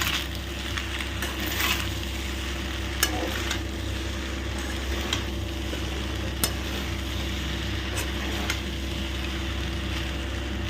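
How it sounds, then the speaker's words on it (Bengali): A spoon or spatula stirs scrambled egg in a hot pan for an egg and chicken dinner, with steady scraping strokes and a few sharp clinks over a constant low sizzle. "আর দিয়ে দিচ্ছি স্ক্র্যাম্বল এগটা, দিয়ে আগে ভালো করে আর একবার নাড়াবো"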